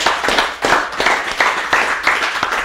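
Several people clap in a slow, even rhythm, roughly five loud beats in a few seconds, close by in a small studio for a hardcore band, with no talking.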